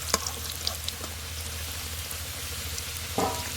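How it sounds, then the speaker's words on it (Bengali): Potato pieces fry in hot oil with a little salt, giving a soft, steady sizzle with scattered faint crackles and a brief clatter near the end. "আলুগুলো ভাজা হওয়ার জন্য দিয়ে দিয়েছি"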